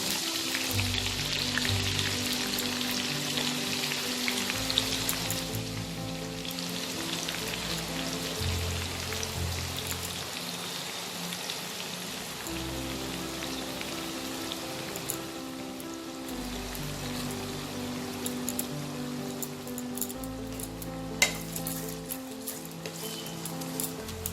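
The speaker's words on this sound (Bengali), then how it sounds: "তেলটা গরম হয়ে গেছে, এবার আমি পেঁয়াজ কুচিটা দিয়ে দেবো।" Chopped onions fry in hot oil for a Kolkata-style hilsa biryani, a steady crackling sizzle that runs the whole time with small pops and no voices.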